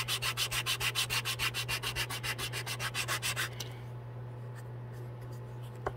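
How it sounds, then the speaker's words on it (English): Sandpaper rubbed by hand on a wooden cooler kit piece: about twenty quick, evenly spaced scratchy strokes close to the microphone over a steady hum, then the strokes stop and only faint background noise remains. "And this is a long process for sanding."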